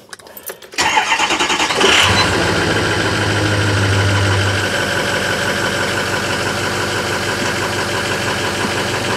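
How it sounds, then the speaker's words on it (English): A Ford F250 4x4 pickup engine cranks and catches after a second of quiet, then settles into a steady, loud idle with a low rumble that holds through the rest. "I'm going to start the car up real quick."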